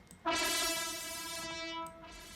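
A loud, harsh virtual trumpet blares in abruptly and holds, buzzy and heavily over-distorted, then fades slightly before cutting off.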